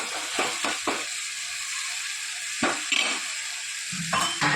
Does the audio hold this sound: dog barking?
no